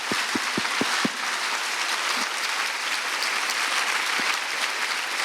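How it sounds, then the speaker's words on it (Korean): Audience clapping fills the whole stretch at a church service, a steady broad wash of applause from a crowd with a few sharp low thumps near the start, no voices over it. "우리 헤브론 원형학교 학생들을 위해서 얼마나 격려의 힘찬 박수 한번 주시면 좋겠습니다"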